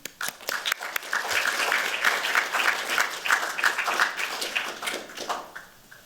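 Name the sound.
audience applause welcoming a speaker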